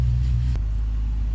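A Ford FG Falcon idling as it warms up on a cold start puts out a close, steady low rumble with a faint rhythmic throb and one brief click midway.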